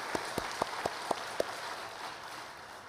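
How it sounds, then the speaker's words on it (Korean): During a Korean church mission rally in Chuncheon, a congregation gives six sharp, evenly spaced claps in quick rhythm, then the sound fades to a soft room murmur. "우리 하나님께 다시 한번 박수에 올리겠습니다."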